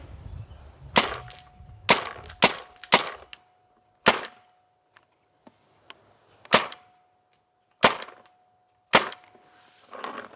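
A Spyder MR6 paintball marker fires about nine separate sharp shots in an irregular rhythm, each loud and close, with a faint steady hum between them and no talking.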